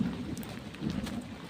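Steady rain falling outdoors with a low, rolling rumble of thunder beneath it, faint and continuous throughout.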